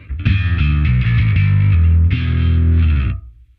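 A bass guitar played through a compressor pedal ahead of distortion on a bass pedalboard rings out in two sustained, heavily driven phrases with a thick, even, squashed tone before fading out.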